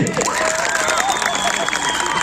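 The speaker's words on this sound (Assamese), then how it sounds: "এটা যোৰা হাত চাপৰি" Applause at an award ceremony on stage, a crowd clapping steadily with murmuring voices and some shouts mixed in, loud and continuous.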